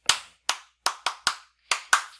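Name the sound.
clapping as a little victory cheer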